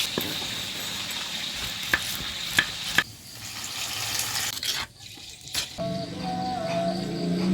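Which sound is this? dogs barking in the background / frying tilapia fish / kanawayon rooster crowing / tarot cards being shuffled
frying tilapia fish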